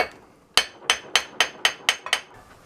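A hammer strikes a rusty brake rotor on an old GMC/Chevy truck seven times in a steady rhythm, each blow a sharp metallic knock with a short ring, loud and close with no talking.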